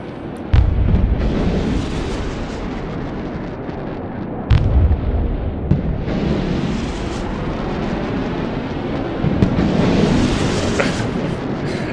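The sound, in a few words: ballistic missile strikes exploding in the video game Broken Arrow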